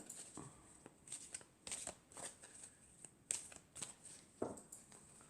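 Tarot cards being shuffled and drawn by hand, a run of soft riffling swishes and brisk card slaps that come in bursts, close and fairly quiet, with no voices.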